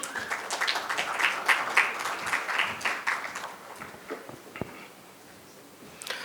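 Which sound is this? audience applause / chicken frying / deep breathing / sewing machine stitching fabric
audience applause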